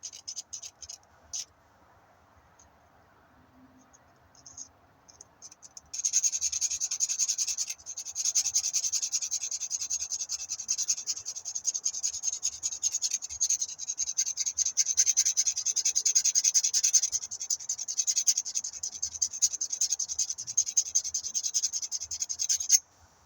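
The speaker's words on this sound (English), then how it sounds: "I've got a tiny file here. There we go. To give that groove a bit of a chance." A tiny hand file works a groove on a Yamaha XT500 motorcycle part, producing a steady high, scratchy rasping of quick back-and-forth strokes, close and moderately loud after a few quiet seconds.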